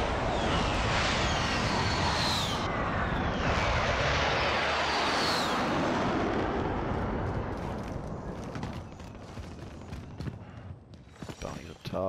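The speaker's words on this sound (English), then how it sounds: "Chopper coming too." A helicopter in Call of Duty: Modern Warfare approaches with a loud, dense rotor roar that fills the scene and slowly eases off. Gunfire cracks and voices break through near the end.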